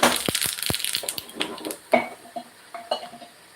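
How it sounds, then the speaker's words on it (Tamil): Mustard seeds and dried red chillies crackle and pop in hot tempering oil for coconut chutney, a dense run of sharp close spatters and ticks that thins into scattered louder pops, with no talking. "காஞ்ச மிளகா போட்டுக்குவோம் கடுகு போட்டுக்குவோம் கடுகு பிரையான பிறகு"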